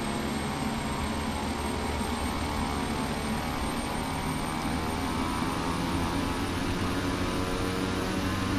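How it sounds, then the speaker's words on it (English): Airplane taking off in the FSX flight simulator game, a steady broadband engine roar held at an even level throughout, with no voices. "And we're ready for takeoff."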